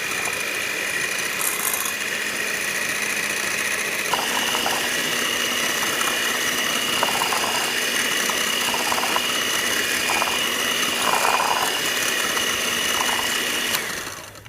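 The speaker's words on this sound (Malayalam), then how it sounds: "നമുക്ക് ഈ ക്രീമിനെ നന്നായി ഒന്ന് ബീറ്റ് ചെയ്തെടുക്കണം" An electric beater whips mango-flavoured cream in a bowl with a constant close mechanical whir and rattling buzz. The sound runs for about fourteen seconds before cutting off.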